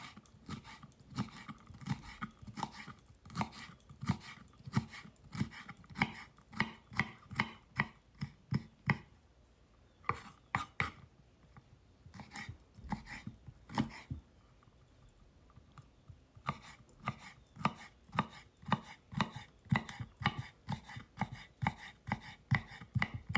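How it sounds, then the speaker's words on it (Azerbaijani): A knife chops green pepper finely on a board in rapid, steady, close knocks, pausing briefly twice before resuming the even rhythm, with no voices. "yaşıl bibəri də xırda-xırda doğrayıram"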